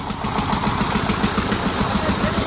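A hand-cranked engine running to pump water, a steady close mechanical chug with an even rapid knock throughout, no voices.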